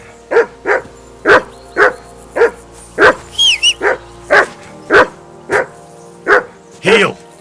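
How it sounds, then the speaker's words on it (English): Regular, evenly spaced barking from a nearby dog in Kingdom Come: Deliverance 2, around a dozen loud barks, with a brief high squeak partway through. "I assume you can hear that damn dog of yours barking."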